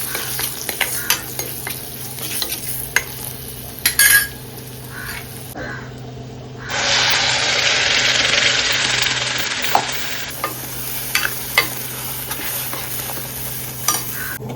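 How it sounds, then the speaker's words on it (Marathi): Masala sautés in oil for a Maharashtrian fish curry, a close sizzle with repeated spatula scrapes and stirs, swelling into a louder, sustained frying hiss midway, and a crow calls in the background. "आता हा छानपैकी असा तेल सुटेपर्यंत ह्याला असं परतावं"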